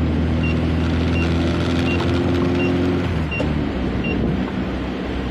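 A Volkswagen Voyage car pulls away with a loud, sustained engine drone and buffeting wind rush, its pitch holding steady and then easing off slightly toward the end.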